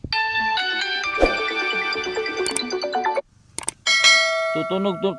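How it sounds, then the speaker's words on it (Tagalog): A lost cellphone plays its find-device alert, a loud, bright chiming melody that rings steadily, stops briefly, then starts again. "Tutunog ang cellphone kung sakaling nawawala ito pag pinipindot ito."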